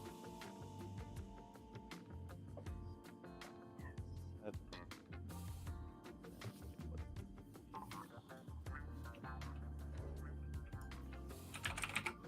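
Computer keyboard typing during a live game stream, a steady run of light key clicks spread through the whole stretch under ongoing game sounds and faint talk.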